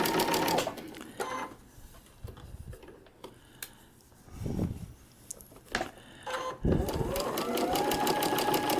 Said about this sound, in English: And I'm going to continue stitching.